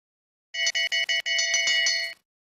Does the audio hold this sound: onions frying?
no